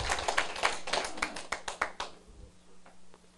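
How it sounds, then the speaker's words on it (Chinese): An audience at a political lecture gathering claps in a burst of sharp, overlapping hand claps for about two seconds, then the clapping thins out and fades to a few soft taps. "啊，你拢无拍手啥？"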